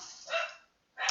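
Dogs barking, two sharp barks at close range, the second clipped short at the end.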